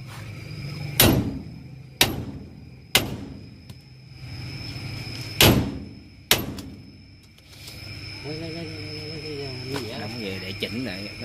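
A hammer strikes a car brake part during a quick repair: five sharp, ringing metallic blows about a second apart, followed by voices talking over a quieter background.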